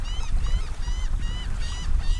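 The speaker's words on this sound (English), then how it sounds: "You can hear the birds singing." Birds at Magnolia Beach give repeated honking, goose-like calls in a steady rhythm, fairly close, over low wind rumble at a coastal camping spot.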